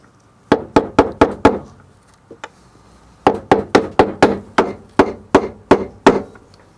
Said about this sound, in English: I'm just going to use this bolt just to start tapping.